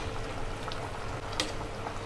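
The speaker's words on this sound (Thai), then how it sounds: "ให้เดือดอีกสักรอบหนึ่งจะได้หอมนะครับ" A pot of Thai tom yum chicken soup bubbling at a steady boil, continuous low gurgling with a few sharper pops, close up and without speech.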